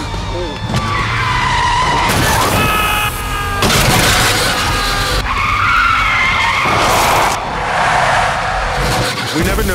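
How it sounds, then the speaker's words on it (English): A car swerving on a lonely road, with long screeching tire skids and engine noise that keep up loud and close throughout, under a narrating voice. "Callum Rains, played by GoCompare, swerves out of compassion and straight into peril."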